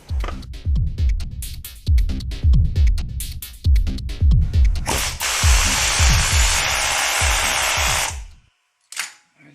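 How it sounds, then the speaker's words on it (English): Pneumatic air hammer driving out a leaf spring bushing sleeve on a 1974 Chevy Nova, loud rapid bursts of hammering in repeated stuttering runs, then one long sustained blast before it stops, with a brief final tap. "let's see if I can get it out with the air hammer."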